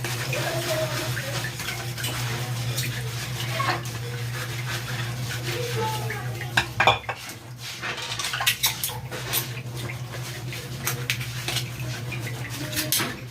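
Glasses and dishes being washed by hand at home, with clinking of glassware and utensils, splashing water and a steady low hum in the background, busiest in the second half.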